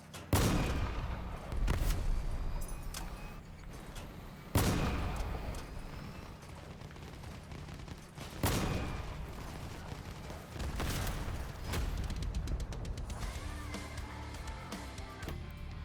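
Vehicle-mounted guns firing in the combat game Crossout, with several sharp heavy blasts spaced a few seconds apart over a continuous mechanical rumble and rattling bursts, loud and without talking.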